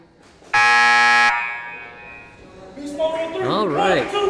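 Loud electronic buzzer at an indoor goalball game in a gym, one sustained blast of under a second that cuts off sharply, followed by echoing gym ambience and an announcer speaking.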